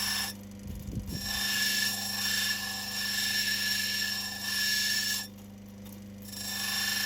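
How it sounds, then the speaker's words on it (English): A 600 grit wheel grinds a large opal with a steady, loud whirring drone and a constant high whine, the rasp of stone on the wheel easing and returning across several seconds. "this 600 grit wheel just takes it off pretty quick"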